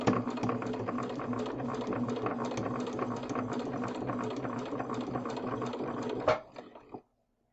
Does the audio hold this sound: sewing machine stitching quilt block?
yes